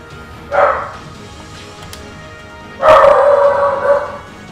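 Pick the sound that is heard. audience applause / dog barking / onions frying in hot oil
dog barking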